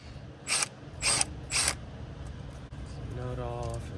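Ratchet backing off a 15 mm nut on an engine bracket of an LS3 V8: three quick, loud clicking ratchet bursts at even intervals close to the microphone, followed by someone talking.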